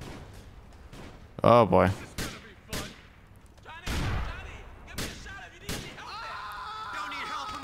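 Gunfire in the GTA 4 The Lost and Damned video game, several sharp shots and bursts scattered among quieter game sounds, with someone speaking briefly.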